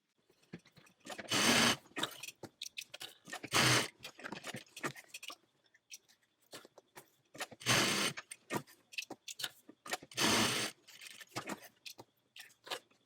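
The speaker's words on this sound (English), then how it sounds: "we're going to go to our sewing machine, and we're going to stitch down this edge, top stitch down that edge" Sewing machine top stitching tote bag strap connectors runs in several short bursts of rapid whirring, separated by pauses filled with small handling clicks and fabric rustles, close by.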